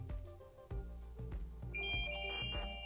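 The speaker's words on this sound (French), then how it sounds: "mon téléphone sonne et ça me permet de le retrouver très facilement" A phone rings after being triggered by the find-phone function on a Garmin Instinct 2 watch, its repeated tonal ringtone rising from a moderate distance over steady background hum and low thumps.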